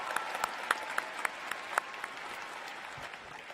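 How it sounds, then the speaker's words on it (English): A graduation crowd at the 2023 UCLA College commencement in Pauley Pavilion applauds, a steady wash of clapping from a large arena with scattered sharp whoops and cheers rising above it, gradually tapering. "Let us cheer for those as well"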